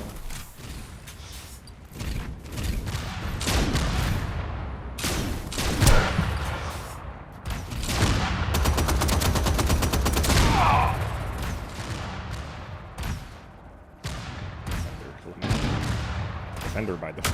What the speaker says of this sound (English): chain gun's not bad, I guess